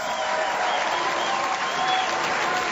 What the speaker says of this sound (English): there's applause there for Solis